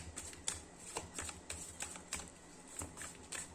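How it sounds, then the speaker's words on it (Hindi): A deck of tarot cards is shuffled by hand. Quick, crisp riffling bursts repeat in an even rhythm, close and fairly soft. "पहले कर लेते कार्ड्स को अच्छे से शफल"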